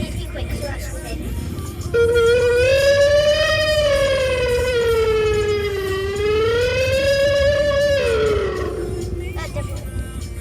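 A person vocally imitates an ambulance siren, a loud wailing tone that rises and falls in smooth sweeps for several seconds before trailing off.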